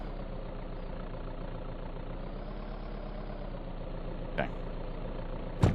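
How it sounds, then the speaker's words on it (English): A vehicle engine idles steadily in a post-apocalyptic video game, a continuous low rumble running the whole time with a couple of brief sharp knocks near the end. "Gonna leave the engine running."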